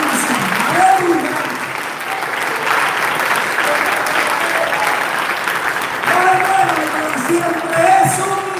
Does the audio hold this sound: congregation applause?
yes